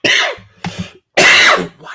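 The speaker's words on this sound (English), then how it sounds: "am I coughing? I haven't coughed all day." Two short coughs, then a longer harsh cough with a throat-clearing edge, loud and close with brief silences between.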